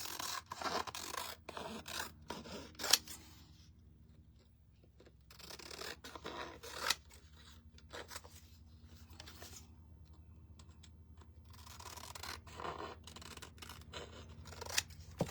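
Scissors trimming paper at a painting table, bursts of crisp snipping and rustling cuts separated by quiet pauses, close and fairly soft.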